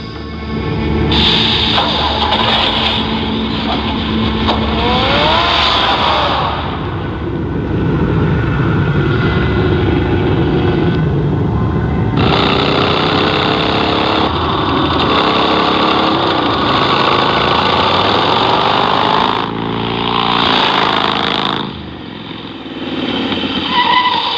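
The Batmobile's engine in a Batman video game runs in a loud, steady roar with rising and falling revs and a few brief dips, close and continuous throughout.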